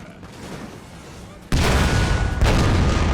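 Cannon canister shot in Napoleon Total War goes off as a sudden loud burst of massed fire, followed by a second heavy report about a second later, with the roar sustained after a quieter battlefield ambience.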